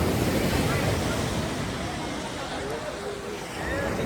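Surf rolling onto Devghali beach: a constant broadband roar of breaking waves mixed with wind buffeting the microphone, with faint indistinct voices in the background.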